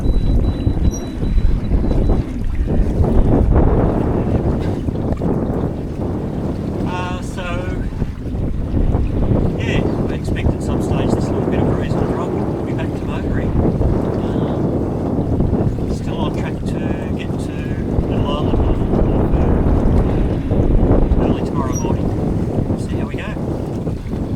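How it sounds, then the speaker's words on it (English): A sailboat moving at 5 to 7 knots off Greece, with steady rushing wind buffeting the microphone and water noise throughout, while people talk over it. "So we're just sailing at the moment, not going very fast, but sort of going between 5 and 7 knots."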